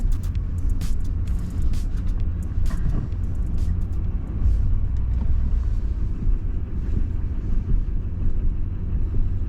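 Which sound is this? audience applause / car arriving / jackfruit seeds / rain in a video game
car arriving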